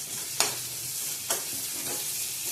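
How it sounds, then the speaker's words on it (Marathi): Onion frying in a little oil makes a steady, close hiss, with two short scraping stirs. "कांदा भाजत आलाय"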